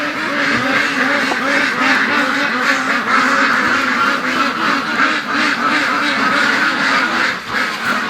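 A flock of domestic ducks, many of them females, quacks continuously and loudly up close, overlapping calls forming a dense chattering chorus throughout.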